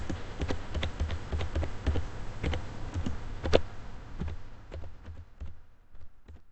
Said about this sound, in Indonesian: Lalu kita akan membuat konfigurasi IP dengan cara CLI. Sini kita bisa slash untuk kembali ke awal. Dan lalu kita bisa ketikkan perintah IP address print.